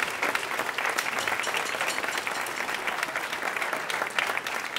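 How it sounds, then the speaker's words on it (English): An audience in a high school cafeteria turned coffee house applauds the school band boosters, with steady, moderately faint clapping from a modest crowd that carries on without a break. "Let's give them a huge round of applause."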